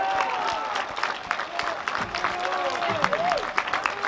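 Steady, moderately close audience applause at the Cava'Jazz 2018 jazz concert, continuous clapping with a few voices and a whistle mixed in, lasting the whole moment.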